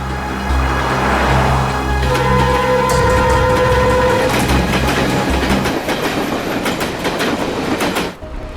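A train running on rails, with a loud rumbling roll, rhythmic clickety-clack of wheels over joints and brief tonal squeal, steady and close throughout before dropping slightly at the end.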